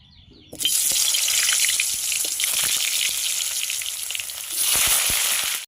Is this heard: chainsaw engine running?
no